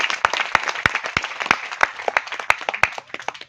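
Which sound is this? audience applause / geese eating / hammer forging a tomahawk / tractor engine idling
audience applause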